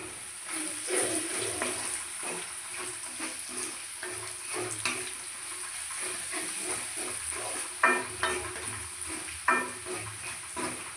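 Chili powder stirred into fried ginger, garlic and onion in a pan for a traditional Assamese sesame chicken dish, with a steady sizzle and scattered scraping strokes. Heard close and moderate in volume, with no speech.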